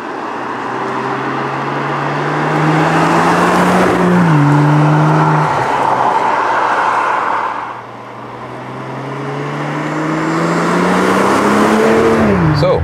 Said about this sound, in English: Put in the sport mode, and welcome to the driving part in an agile way with the new 8 Series Gran Coupé.